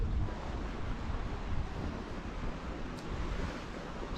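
Broadband wash of sea waves on the beach at Palmanova, Mallorca, steady and enveloping with wind buffeting the microphone and no voices.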